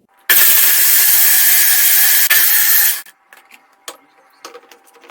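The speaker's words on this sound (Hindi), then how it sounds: "अब इसे फिर से ब्लेंड करेंगे।" A kitchen blender whirs loudly and steadily while blending ABC juice ingredients of apple, beetroot and carrot, running for about three seconds, then cutting off to leave faint clinks and small handling knocks.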